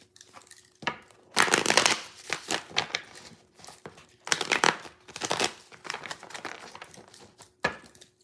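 Tarot cards being shuffled close up in several bursts of crisp riffling and flapping, with short pauses between the rounds and no talking.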